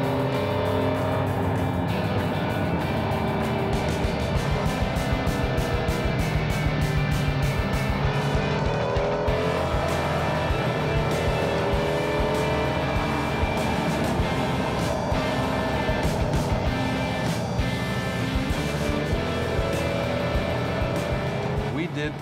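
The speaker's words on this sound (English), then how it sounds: "The Stinger's engine is very powerful with a lot of low end torque" A Kia Stinger's engine runs continuously at close range while driving the Cadwell Park circuit in the United Kingdom, a steady loud drone with shifting pitch sweeping up and down under constant talk.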